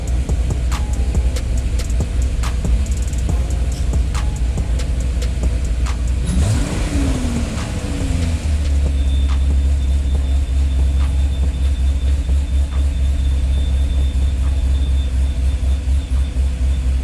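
A Corvette engine idles at around 2,000 RPM with a steady, close low rumble, a brief rising and falling tonal sweep midway, then a persistent hum with no talking.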